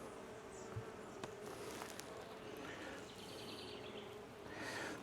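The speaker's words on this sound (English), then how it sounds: "There's a ton of bees in here." Honeybees in an open hive, a dense continuous buzz of many insects close by, steady throughout with faint outdoor sounds behind.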